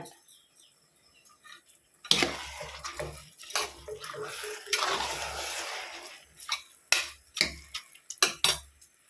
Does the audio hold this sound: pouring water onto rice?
yes